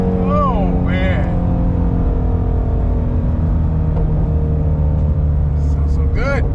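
A Shelby GT350 V8 engine rumbles steadily up close, a deep throaty note from the stock exhaust, while people exclaim briefly over it.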